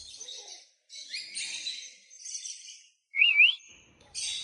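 Pet lovebirds during breeding season give a string of short, high chirps and tweets in bursts, with brief gaps between them and one sharper whistled call near the end, fairly close and moderately loud.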